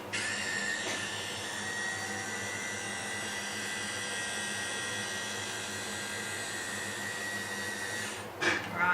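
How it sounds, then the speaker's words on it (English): A blender whirs steadily and close, blitzing a puree with salt and olive oil, then briefly changes pitch just before stopping. "we're going to give that a really good blitz"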